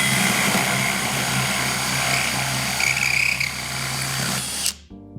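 A power drill fitted with a hole saw bores through wood for a birdhouse, a loud steady grinding whine for about five seconds with slight surges in pitch before it abruptly stops; no one speaks.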